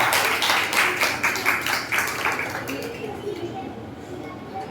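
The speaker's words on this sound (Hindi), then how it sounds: "ताली बजाइए।" An audience breaks into dense, quick clapping that fades away after about three seconds, leaving softer room noise and some voices.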